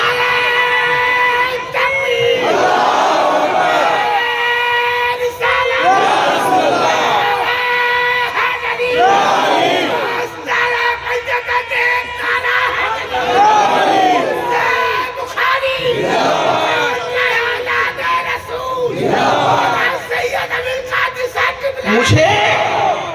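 A large crowd at a religious gathering roars back slogans in unison, repeated surging shouts every few seconds over a continuous background of voices and a leader's calls, loud and reverberant.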